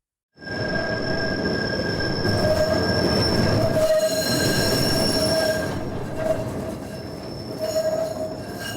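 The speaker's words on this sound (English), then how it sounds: "Well, Mark, it seems our train has decided to grace us with its presence." A train rolls in with a steady rumble and high metal wheel squeals sustained above it, loud and close, easing slightly toward the end.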